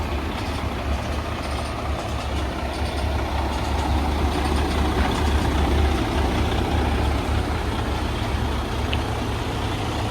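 A Western Star semi truck idles nearby with a steady low diesel rumble that runs without a break and stays loud and even throughout.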